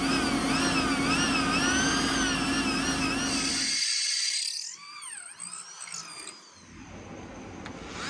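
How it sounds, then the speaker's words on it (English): A drill press bores a lanyard hole through a clamped forged knife blade, giving a loud, steady whine with strong ringing overtones that cuts off partway, leaving quieter, wavering tool noise. "we lock the blade down to bore out a lanyard hole on the press"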